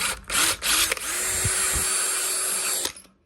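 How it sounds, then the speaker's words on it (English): A power drill whirs steadily for about two seconds after a few short clicks and bursts, close and fairly loud. "Let's drill a little hole through here."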